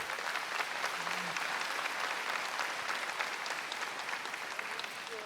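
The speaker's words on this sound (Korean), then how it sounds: "박수 한번 부탁드립니다." A conference audience at a Korean business gathering claps steadily throughout, a dense sustained wash of applause that tapers slightly toward the end, with no talking over it.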